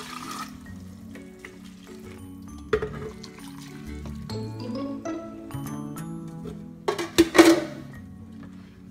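Water poured into a pot of Mexican noodle soup with browned noodles and blended tomato, onion and garlic, a soft continuous trickle under kitchen clatter, with a louder splashing burst near the end.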